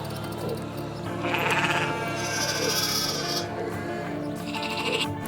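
Lambs bleat in short, nasal bursts at moderate distance on open Snowdonia farmland, several calls overlapping against a steady background hum.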